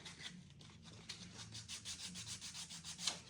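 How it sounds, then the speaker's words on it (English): A PVC shower base drain being smoothed by hand with 120 grit sandpaper, a quick series of close, rhythmic scratchy rubbing strokes, fairly quiet and alone. "just sand that over so it's smooth."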